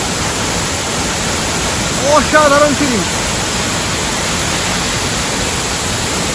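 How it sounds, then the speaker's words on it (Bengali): Jonha Falls near Ranchi rushes from about twenty to twenty-five cubits away as a loud, steady roar of falling water, while someone speaks briefly over it. "এখান থেকে ২০ থেকে ২৫ হাত দূরত্বে ঝর্ণাটা"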